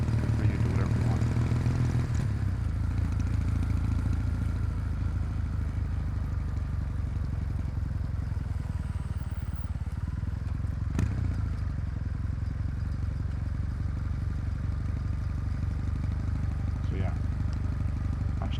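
Kawasaki W800 motorcycle engine lugging at low revs, a steady deep rumble throughout with a brief clatter near the start and a sharp knock midway, close and loud.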